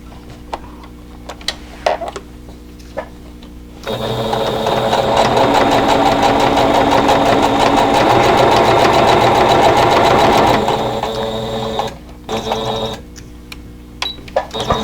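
Sewing machine stitching a table runner border with a quarter-inch seam, scattered clicks at first, then a loud steady whirring run of about eight seconds before it stops and the clicks resume.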